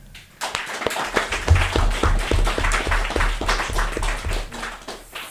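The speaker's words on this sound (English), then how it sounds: "Let's please give Peter a warm round of applause." An audience at a political commemoration event applauds to welcome a speaker, with a dense, steady round of clapping that swells quickly and continues at a lively level throughout.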